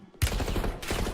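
Close, loud automatic gunfire in a video game battle: a sudden burst of rapid shots, a short gap, then another burst.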